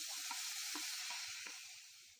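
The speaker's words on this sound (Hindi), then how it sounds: "तो अब इन सबको हल्का सा फ्राई कर दे रही हूँ" Chopped onion, green chilli and tomato fry lightly in a pan with a steady, close sizzling hiss that runs throughout and eases slightly toward the end.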